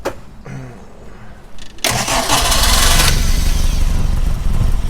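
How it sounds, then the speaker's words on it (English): A Hillman 1040 race engine cranks and then fires, catching into a loud, steady, close running note that holds without pause. "Could you fire it up for me, and we'll have a little listen to it"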